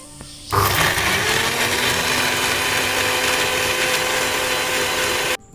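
A kitchen mixer grinder blends black grapes with sugar and water, its motor starting abruptly into a loud, steady whir that holds for about five seconds and then stops sharply.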